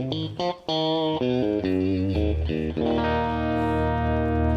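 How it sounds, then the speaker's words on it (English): Clean electric guitar with a Telecaster-like tone played through an effects unit, a run of bright, distinct notes and chords ringing out loud and alone, the last chord sustaining. "I know that sounds phenomenally like a Telecaster"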